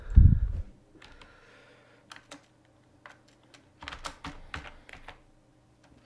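Keys clacking on a computer keyboard as a git commit message is typed, a loud thump at the start followed by scattered taps and a quicker burst of keystrokes near the end, with no talking.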